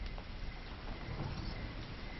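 Heavy rain in a film scene, a dense, steady hiss of downpour that is close and continuous without pause.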